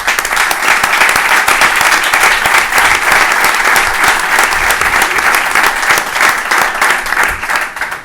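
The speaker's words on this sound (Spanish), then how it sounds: "Este aplauso para el maestro, otro aplauso para el maestro." A hall full of people applauding a bullfighting maestro at a trophy ceremony honoring Paquirri, sustained, loud and even for about eight seconds without pause.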